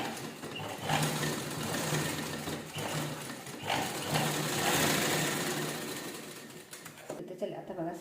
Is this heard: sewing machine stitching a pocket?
yes